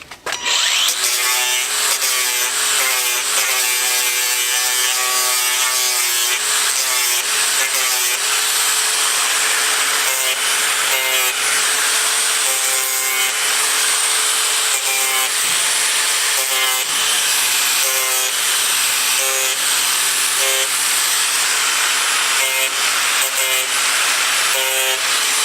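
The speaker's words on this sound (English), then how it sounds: "Now we'll just take an angle grinder with a sandy disc on it," An angle grinder fitted with a worn sanding disc cleans up the steel of a Blazer front bumper, giving a loud continuous high grinding whine close by that shifts in pitch as pressure varies, with no talk.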